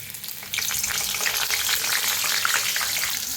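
Sliced green chillies sizzle in hot oil for a vada pav side, a soft hiss that jumps to a louder, busy crackle after a brief start and stays close with no voices.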